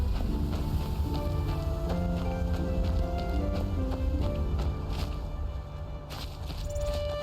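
A horse in the video game Skyrim trots with steady clip-clopping hooves over a continuous background of game music and ambience, fairly close and moderately loud.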